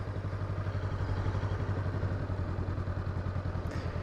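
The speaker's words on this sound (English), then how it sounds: "A little bit of throttle, friction zone. Get the bike to move." A motorcycle at low throttle eases away from a stop into a slow, tight parking-lot turn, with a steady, close, low engine rumble that holds even throughout.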